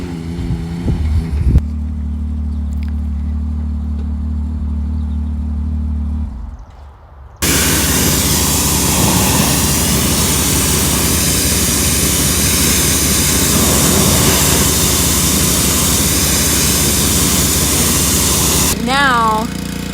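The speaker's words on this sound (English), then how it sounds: "the zero turn mower is being power washed" A pressure washer sprays a zero turn mower caked in dust and mud, a loud continuous hiss that cuts in after a quieter engine hum, with brief speech at the start.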